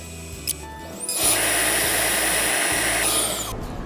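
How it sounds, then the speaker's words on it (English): A dust extractor for a Root 4 CNC router switches on with a short click, then a loud, steady whooshing roar holds for a couple of seconds before it spins down and stops, with no talking over it. "Let's get the dust extractor ready."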